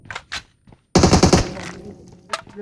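Gunfire in a first-person shooter video game: one loud, rapid burst of automatic shots lasting about half a second, with faint, brief sounds before and after.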